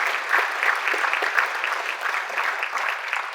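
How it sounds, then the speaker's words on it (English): Steady applause from an audience at a military change of responsibility ceremony, even and sustained throughout with no voices. "Please join me in a round of applause for all those who helped out"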